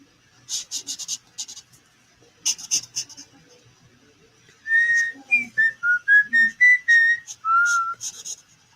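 A person whistles a short melodic tune, clear and close, after some light scratching and rubbing sounds.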